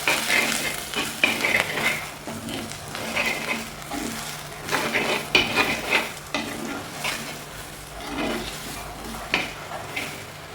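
Spoon stirring a ginger curry mixture in a frying pan, repeated scraping strokes in an uneven rhythm over a soft sizzle, close and fairly quiet.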